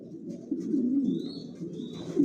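Long-distance Johnson-line racer pigeons in a loft coo in low, soft, continuous rolling tones, close by, with faint thin chirps from other birds above.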